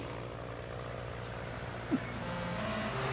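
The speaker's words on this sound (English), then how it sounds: "Lots of cars and trucks are driving by." Steady traffic of cars and trucks passing along a road, a continuous low rumble with a brief bump partway through, heard at moderate distance without talk.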